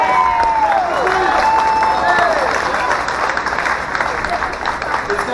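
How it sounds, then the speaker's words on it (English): A live audience breaks into a big round of applause, dense clapping mixed with crowd noise and cheering, with voices and shouts riding over it throughout. "A big round of applause."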